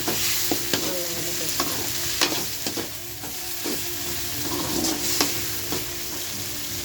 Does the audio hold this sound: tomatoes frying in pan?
yes